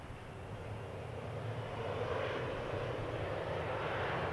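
A Qantas airliner departs runway 03 at Perth Airport, its engine roar steady and broad, building slightly as it passes, heard from a distance with no voices.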